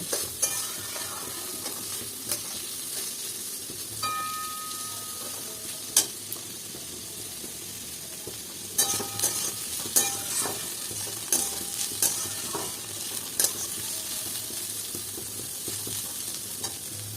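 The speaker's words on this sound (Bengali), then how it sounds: "আপনারা চাইলে কিন্তু এগুলো আলাদা আলাদা করে ভাজতে পারেন, কিন্তু আমার এখানে আলাদা প্রয়োজন মনে হয়নি, আমি একসাথেই ভেজে নিচ্ছি" Mixed vegetables stir-fry together in a pan for fried rice: a steady sizzle runs throughout while a utensil scrapes and clicks against the pan at irregular moments.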